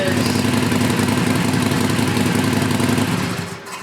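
A Harley-Davidson motorcycle engine with stock exhaust and heat shields fitted idles steadily with a low, even rumble and a lumpy exhaust pulse, close by, easing off slightly at the end.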